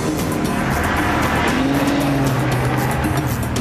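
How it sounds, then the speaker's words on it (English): Police squad car driven hard around a racetrack, its engine roaring steadily and loud up close with tire noise throughout, no talk over it. "The first thing I learned was that those squad cars can really move out."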